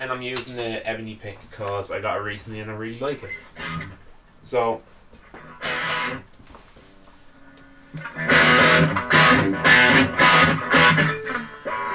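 A generic Strat-style electric guitar, played with an ebony pick through a Vox AV15 amp at its highest distortion setting, sounds out in a few loud, gritty strummed bursts near the end, after someone talks over quiet pauses.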